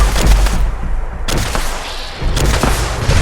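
Explosions and rapid gunfire from a Fallout 76 gunfight, loud and continuous with heavy low booms and bursts of shots that thin out briefly near the middle, then surge back.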